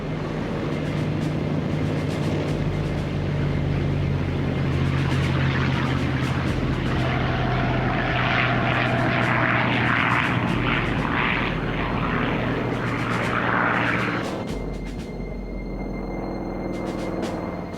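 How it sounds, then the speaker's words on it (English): Japanese propeller warplanes take off for the Pearl Harbor attack, a loud sustained engine roar with a droning tone that holds and then drops away near the end. "the first wave of Japanese aircraft took off"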